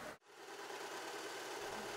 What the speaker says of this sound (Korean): 능숙한 솜씨로 재봉틀을 돌리는